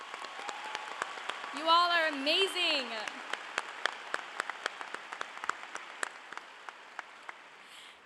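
Applause from a graduation crowd at Cypress Creek High School's 2019 ceremony for the school staff, a steady patter of many hands with sharper nearby claps, while a student speaks briefly over the start.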